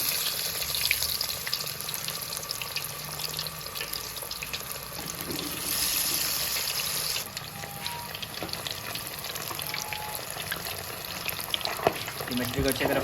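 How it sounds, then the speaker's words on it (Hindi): Fish frying in hot ghee in a kadai, a steady crackling sizzle that runs throughout at moderate loudness, with a few faint clinks and utensil taps near the end and no talk over it. "अब इसमें मछली डाल के फ्राई कर लें।"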